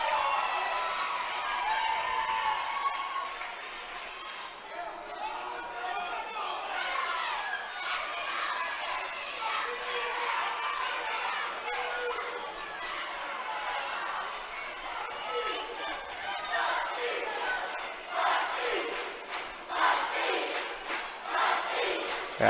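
A volleyball crowd at a sub-state tournament cheers and shouts for Northern Valley inside a gym, a dense, steady roar of voices and yells with louder swells near the end.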